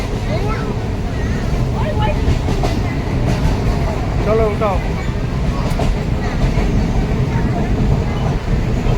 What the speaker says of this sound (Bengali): দাঁড়াও না ট্রেন থামতে দাও